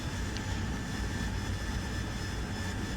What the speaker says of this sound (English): Take care of that Pegasus engine.